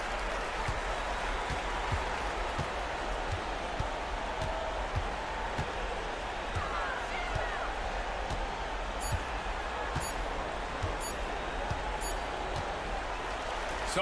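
A home crowd at a basketball game applauds a victory, a steady wash of clapping and crowd noise with a few faint ball bounces beneath it, and a commentator's voice lies buried under the din.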